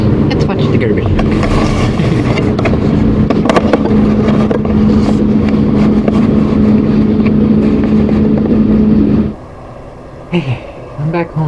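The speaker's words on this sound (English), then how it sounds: "Let's watch the garbage truck." Garbage truck working nearby in a snowy street, a loud, steady diesel engine drone with clanks and knocks for about nine seconds before cutting off abruptly, leaving quieter scattered sounds.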